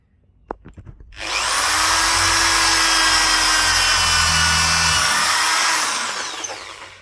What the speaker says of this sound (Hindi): अब मैं क्या करता हूं, इस प्लाईवुड में छेद करके दिखाता हूं।